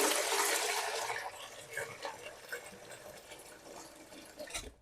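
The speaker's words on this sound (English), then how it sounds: "I generally just give this a quick rinse over." Warm water splashing and running over a home-brewing jug during a quick rinse, a steady rushing spray close by that eases to softer trickles and splashes.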